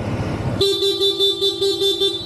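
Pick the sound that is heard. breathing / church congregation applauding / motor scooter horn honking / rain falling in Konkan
motor scooter horn honking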